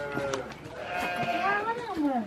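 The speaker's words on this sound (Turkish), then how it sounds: "Bak koyunun bile bağırıyor." Sheep bleating close by on a farm during winter preparations, a couple of wavering, drawn-out calls rising and falling over about two seconds, with a voice speaking faintly underneath.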